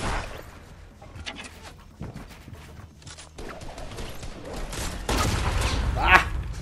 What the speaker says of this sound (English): Some bitch shooting from a tree again.